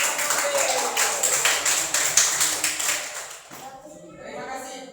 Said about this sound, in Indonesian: Beri tepuk tangan untuk Melody